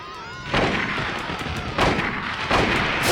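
A rifle fires in the Silent Hill video game, with three loud, booming shots spaced about a second apart, each followed by a ringing decay.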